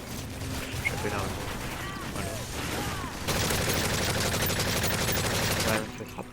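Rapid gunfire from Call of Duty: Modern Warfare 3 gameplay, with bursts of automatic weapon fire and mechanical clicks that swell into a loud sustained volley before stopping abruptly, while a player talks over it.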